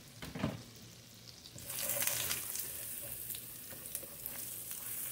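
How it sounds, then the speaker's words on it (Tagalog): Minced garlic sautés in a little olive oil with a steady, close sizzle that swells after a brief clink at the start and continues alone. "Saute natin."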